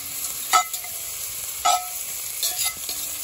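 Food fries gently in grease inside a Dutch oven over an outdoor fire, a soft steady sizzle broken by a few sharp clicks and scrapes as a fork turns the pieces.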